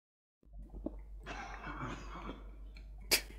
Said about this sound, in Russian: То есть Харн записал свой кашель